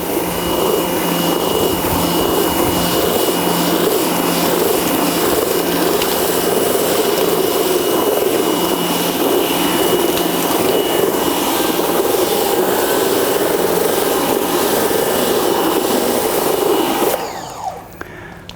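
A Nilfisk Compact 110.3 pressure washer cleaning a dirty wooden deck, a loud steady motor whine and spray hiss running continuously for about seventeen seconds before cutting off abruptly.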